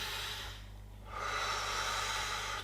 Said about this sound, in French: vous pouvez prendre une profonde et grande respiration